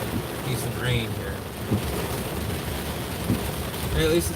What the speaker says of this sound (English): Well, it's not really going down, but it's raining.